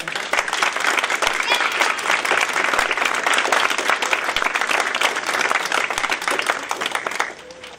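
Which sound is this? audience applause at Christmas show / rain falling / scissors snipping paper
audience applause at Christmas show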